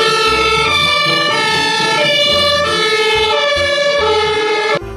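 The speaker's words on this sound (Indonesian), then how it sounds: "mobil pemadam kebakaran." A loud fire truck siren wails steadily, its rising and falling tones continuous over a low rumbling engine, cutting off abruptly near the end.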